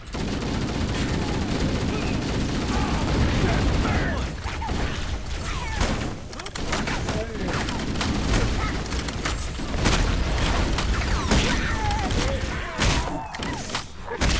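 A frag grenade explodes amid continuous gunfire and battle noise in the Halo video game, dense and loud throughout with booms and clattering weapon fire.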